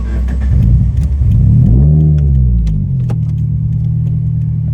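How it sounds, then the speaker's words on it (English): An R34 Skyline on new wheels is driven and accelerates with a loud, close engine drone. The pitch climbs through a rev and then shifts to a steady cruising hum, with light rattles inside the cabin and no talk. "It drives perfectly fine."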